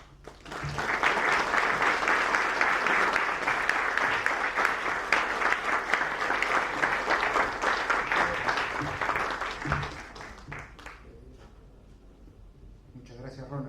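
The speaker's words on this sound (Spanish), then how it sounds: "nos inspira para darle nuestro aplauso" Sustained audience applause at a Spanish-language book presentation, a dense wash of clapping lasting about ten seconds before fading into quiet room sound with a few scattered claps.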